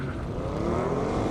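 An Audi RS7 runs down a runway at an airport drag race, its engine a loud steady roar rising slightly in pitch over a brief burst, heard without any voices.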